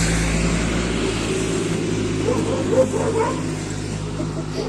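A dog barks a few times at a moderate distance, over the steady low outdoor rumble of a passing tractor.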